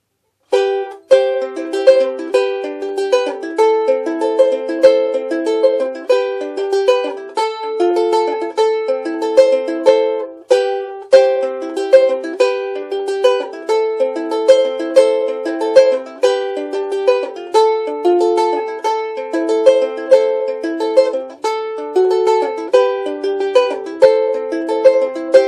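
On ukulele, the verse and chorus of a song are fingerpicked in a steady, even pattern of bright plucked notes, played solo and up close without any voices.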